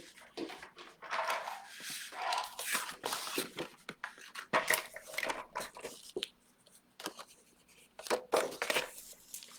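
Cardboard being cut for a folding card, with scratchy irregular strokes, rustles and small taps in close, quiet bursts separated by short pauses.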